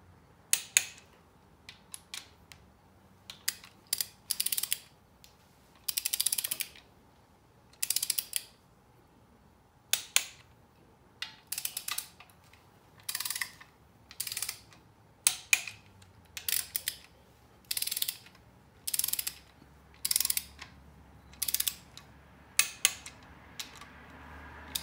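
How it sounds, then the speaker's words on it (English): A torque wrench clicks as timing cover bolts are tightened in a crisscross pattern on a 5.3 LS V8 engine, giving short bursts of ratcheting clicks separated by brief quiet pauses, close up. "we'll just torque them all in a crisscross pattern."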